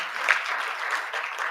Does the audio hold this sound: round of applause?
yes